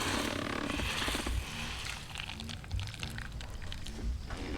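Chu chee curry sauce is poured from a pan over cooked fish onto a plate, a thick splashing, gurgling pour running steadily for several seconds with kitchen noise behind it.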